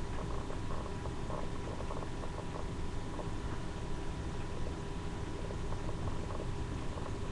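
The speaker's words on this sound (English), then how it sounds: "I hear a sizzle, but it's not as much as it should be." A quiet, steady crackle of chicken frying in hot grease that is not hot enough, with soft bubbling and popping throughout.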